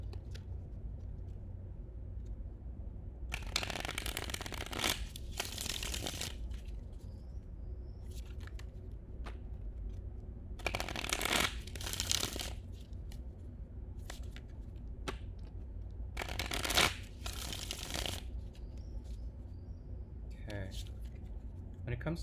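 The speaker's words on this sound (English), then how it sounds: "Okay, so let's do a pre-shuffle." Tarot cards are shuffled in three or four short papery riffling bursts, close and fairly quiet, separated by a soft background hum and occasional talking.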